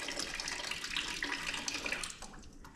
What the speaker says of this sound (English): we're going to let that drain completely out